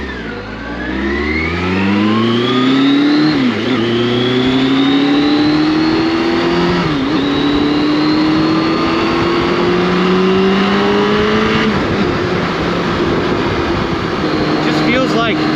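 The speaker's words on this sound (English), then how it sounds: "I twist the throttle, it just wants to go" A Kawasaki Concours sport touring motorcycle engine accelerates hard in fourth gear on the road, its rising whine climbing steadily in pitch through several surges, loud and continuous with wind noise throughout.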